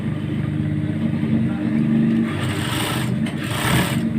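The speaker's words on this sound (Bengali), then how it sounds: "চাপ সেলাই দিতেছি।" A sewing machine top-stitches a pair of baby shorts, its motor giving a steady, close, continuous whirring hum for the whole stretch with no voices.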